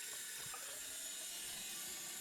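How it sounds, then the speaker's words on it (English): Bathroom basin tap running steadily, water flowing freely down an unblocked plug and waste trap, a continuous close hiss and trickle with no talking. "So now I run the tap and it's clear to see that the basin, the plug and the waste trap are all unblocked, and the water is flowing freely."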